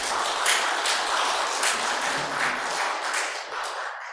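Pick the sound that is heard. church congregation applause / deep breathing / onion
church congregation applause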